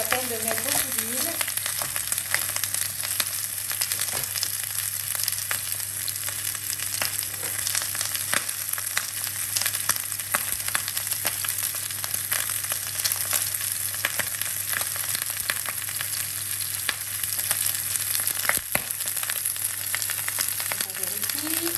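Chicken frying in a pan with only a little oil, giving a steady, dense sizzle throughout with occasional stirring clicks and faint background hum.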